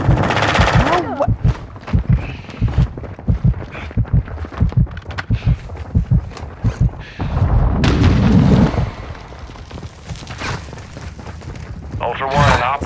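Gunfire in a Call of Duty match comes in rapid bursts and sharp booms, with a heavy blast near the middle, over steady in-game radio chatter and a player's voice.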